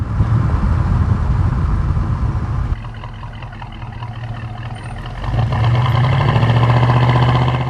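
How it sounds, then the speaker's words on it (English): A 1968 Oldsmobile 442 with a 400 V8 rumbles on the road, its deep exhaust droning, easing off briefly and then swelling again as the throttle comes back on. "Good exhaust note when you get back in the throttle."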